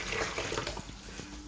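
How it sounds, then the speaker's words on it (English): Water is poured onto grated coconut to press out coconut milk, giving a steady close splashing and pouring rush that holds for the whole stretch. "So I just have to add another water"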